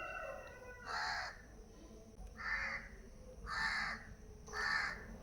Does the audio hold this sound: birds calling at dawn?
yes